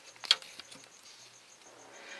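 Faint, soft chirps and ticks from banded crickets in a pet frog's enclosure, with a brief brushy rustle near the start, quiet and close with no talking.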